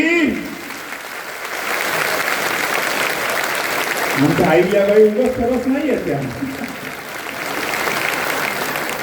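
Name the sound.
women in kirtan audience clapping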